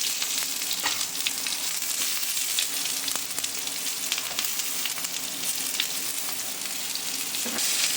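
Chopped onions and green chillies with fennel seeds sautéing in a hot pan, a steady bright sizzle with faint stirring scrapes, continuous and close, with no voices.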